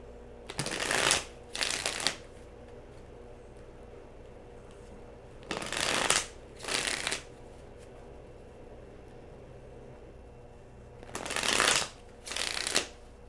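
A tarot card deck is shuffled in three separate bursts, each a quick pair of crisp riffling flutters, with quiet room tone between them and no voices.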